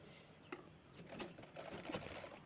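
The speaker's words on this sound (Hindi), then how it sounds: "अच्छे से सिलाई लगा लेनी है कॉर्नर तक, और घुमा के बाद में दूसरे साइड में हमें सिलाई लगा लेनी है।" A sewing machine stitches a door mat made from old clothes, its quiet motor running in short, uneven bursts of rapid needle clatter at close range.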